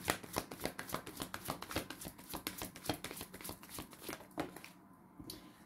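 Tarot cards being shuffled and handled during a reading, a rapid run of close papery riffles and flicks that slow to a few soft taps before trailing off, with no talking.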